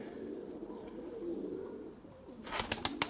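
Domestic breeding pigeons coo softly in a loft, a low continuous murmur close by, followed by a few sharp brief rustles or wing flaps near the end, with no talking.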